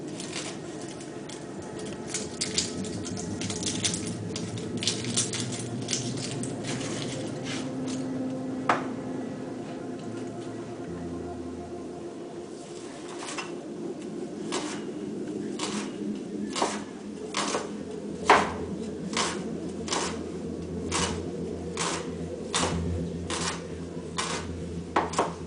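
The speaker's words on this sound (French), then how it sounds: "nous allons émincer une échalote que nous allons incorporer dans notre faitout" Knife blade repeatedly striking a cutting board while a shallot is finely sliced, a run of sharp, evenly spaced taps that quickens toward the end, heard up close with no talk.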